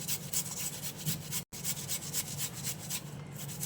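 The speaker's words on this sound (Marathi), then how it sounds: "इथे मी एक बटाटा घेतलेला आहे आणि तो आपण किसून घेऊया बटाटा उकडून घेतलेला आहे" A boiled potato is grated by hand, giving a close, steady run of rhythmic rasping strokes with one brief pause midway and no speech.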